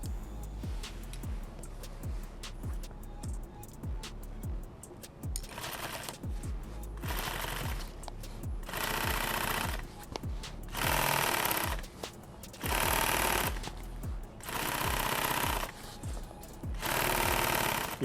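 A sewing machine stitching a modular chest rig, running in fast steady bursts of rapid needle clatter with short stops between, loud and close.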